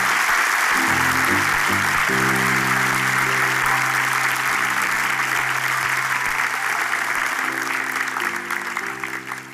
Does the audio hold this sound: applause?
yes